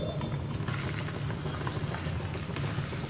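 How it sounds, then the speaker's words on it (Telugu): Urad dal, cumin and crushed garlic frying in oil on a low flame for a tomato pickle tempering, a steady soft sizzle with a low bubbling hum throughout and no talking. "పోపుని మాడకుండా లో ఫ్లేమ్ లోనే పెట్టుకొని వీటిని ఫ్రై చేసుకోవాలి"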